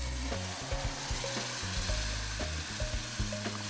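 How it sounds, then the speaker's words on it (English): A whisk works milk into a flour roux in a pan for a basic white sauce, giving steady sizzling and stirring with rhythmic scraping strokes, close and moderately loud, with no talk. "And I add about maybe a third of that milk and start giving this a really good whip."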